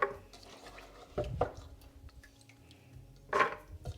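Cooked chickpeas are scooped out of a pot with a utensil, giving a few soft metallic clinks and scrapes with wet, squelchy movement, quiet and close, with pauses between scoops.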